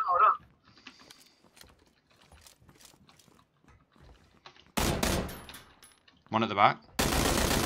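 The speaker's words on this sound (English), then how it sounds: "He's shooting through the things." Gunfire in the battle-royale game PUBG, Player Unknown's Battlegrounds: sharp shots and loud bursts crack out near the end over squad voice chat, with lighter mechanical clicks and footsteps earlier while players talk.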